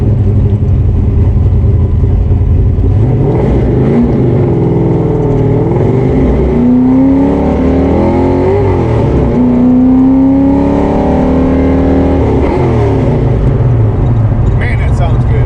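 From inside a car fitted with Flowmaster mufflers, a loud, steady exhaust drone rumbles throughout, with engine pitch rising and falling as it accelerates, and someone talks over it.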